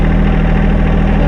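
A John Deere 2025R compact tractor engine idles steadily up close, a loud, even low rumble with a rhythmic knock running unbroken throughout.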